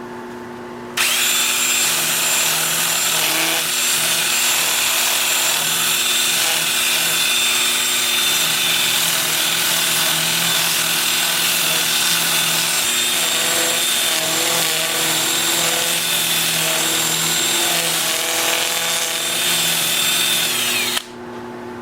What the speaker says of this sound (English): I'll switch to my 2-inch disc starting at 80 grit and working up through 400 grit